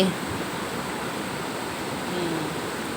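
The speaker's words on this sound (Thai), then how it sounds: "เป็นน้ำไหลอยู่หลังบ้านลุงค่ะ" Water pouring steadily over a small weir behind a house, a constant close broadband rush with no pause, alone and without voices.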